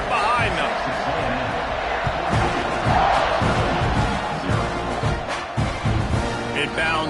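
A football stadium crowd roars before kickoff, a loud sustained mass of cheering and shouting with scattered bursts and thumps rising and falling over several seconds.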